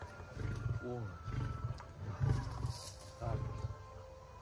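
A lion roars in a series of deep, grunting pulses, rhythmic bursts repeating about once a second, close by, with a person speaking softly over it.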